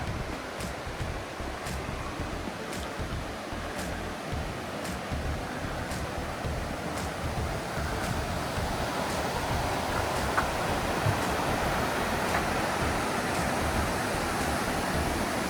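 The River Goyt rushing along beside the Millennium Walkway at Torr Riverside Park in New Mills, a steady broad roar of flowing water, close and continuous with no voices.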